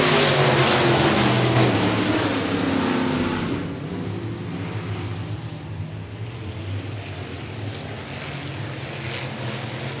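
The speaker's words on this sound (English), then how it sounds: "Mosier sets a pace, fires off out of corner number four," Sport modified race cars roar out of turn four at Phillips County Raceway as racing resumes after a caution, a loud, dense engine wash that swells at first, then eases to a steady, slightly more distant drone.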